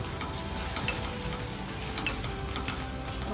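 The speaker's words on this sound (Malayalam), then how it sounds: "പച്ചമുളക് മാറുന്ന വരെ ഇളക്കി കൊടുക്കാം" Green chilies and onions fry with turmeric in a pan for a Thrissur-style cassava stir-fry, a soft, steady sizzle with faint stirring scrapes throughout.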